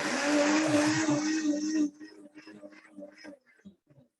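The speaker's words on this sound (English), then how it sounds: "And a top tip for cleaning the blender, put in some water." A blender runs loud with water swirling inside for cleaning, whirring for under two seconds before shutting off, followed by faint clatter and a voice.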